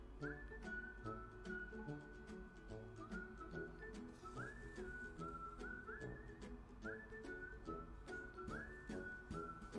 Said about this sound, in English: This is cute music. A little whistle music.